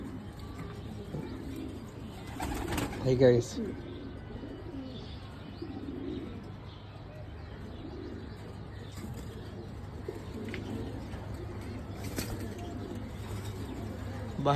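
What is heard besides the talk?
pigeons cooing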